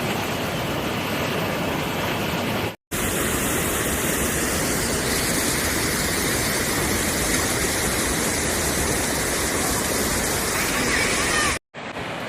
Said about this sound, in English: 现在涨洪水啦！